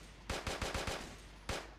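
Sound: gunshot in a video game, headshot

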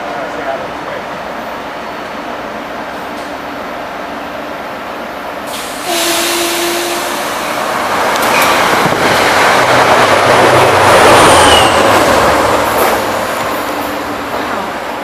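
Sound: express train passing fast

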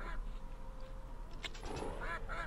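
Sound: duck quacking in a video game

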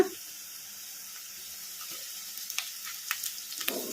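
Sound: onions with green chillies and curry leaves frying in pan

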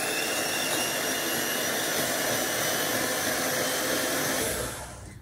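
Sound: electric mixer whisking egg whites

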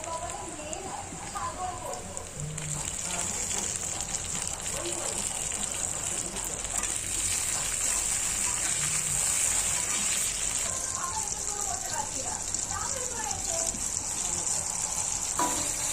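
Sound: chopped onion and tomato frying in a pan

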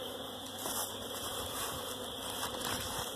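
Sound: bee buzzing close to the ear

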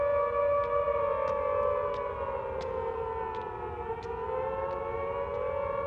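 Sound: air raid sirens wailing over a city

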